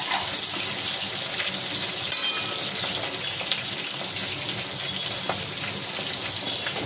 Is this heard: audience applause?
no